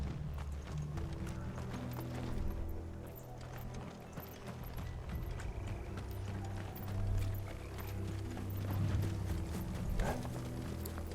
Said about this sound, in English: If those horses touch the hair on Martha's head.